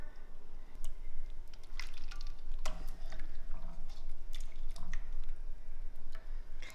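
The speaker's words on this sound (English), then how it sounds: "I'm gonna quickly take the time to drop them into some ice cold water." Cooked shrimp plunking and splashing into a bowl of ice-cold water, a run of scattered small drips and wet squishes over a low background hum.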